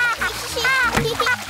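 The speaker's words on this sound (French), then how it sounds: "Bravo, mais n'éclabousse pas autant." Water splashing as a child kicks legs while holding a float board in a pool, in a cartoon scene with children's speech over the broadband splashes.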